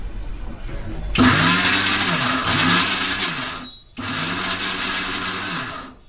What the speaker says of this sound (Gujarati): તેને મિક્સર જારમાં નાખી દેશું. બંને વસ્તુને સરસ રીતે પીસી લેશું.